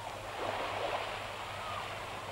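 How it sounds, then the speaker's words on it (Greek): Shallow sea waves wash in a continuous soft surf on a grey, overcast shore, with a steady low rumble of water and some wind and no voices. "Η θάλασσα είναι ανάβαθη."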